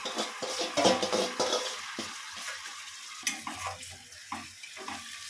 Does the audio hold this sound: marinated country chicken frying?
yes